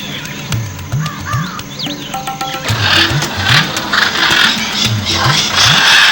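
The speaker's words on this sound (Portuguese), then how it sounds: "e o ruidoso viveiro das araras" Harsh, loud squawks and raucous calls from several macaws in an aviary overlap repeatedly, with a voice speaking briefly amid the noisy birds.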